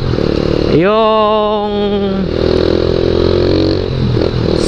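A Skygo Boss 150cc motorcycle engine revs up sharply and holds a rising whine before settling back to a rough, steady idle, loud and close, with a brief spoken word.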